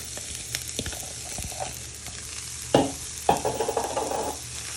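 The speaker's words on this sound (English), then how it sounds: "when your pan is nice and hot, you're going to place all your onion and garlic in" Onion and garlic frying in a hot pan, with a continuous sizzle that flares as the pieces are stirred and shifted; a few soft utensil knocks, no voices.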